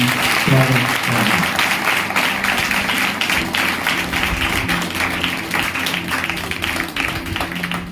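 A church congregation bursts into loud sustained applause that stays dense and even throughout, with some voices mixed in.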